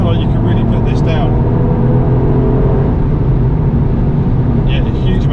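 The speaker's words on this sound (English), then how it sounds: "Blip down. Lovely. That's a manual blip, by the way, we're not using IMT." A Toyota Yaris GR with a manual gearbox, its engine blipped by hand on a downshift, roars in a steady loud drone inside the car, with a voice talking over it.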